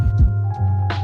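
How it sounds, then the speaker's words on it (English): A fat, distorted bass line from a lofi hip hop beat throbs loud and low, steady and sustained under a few brief higher textures, with no talking. "That hella like fat bass line though"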